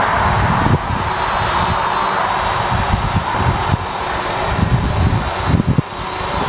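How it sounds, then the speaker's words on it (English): A DJI Mavic Pro drone flying in a circle gives a steady, close whine from its rotors that holds throughout, with a constant high tone over a broad rushing hum and some low wind buffeting. "Control the aircraft in a circle."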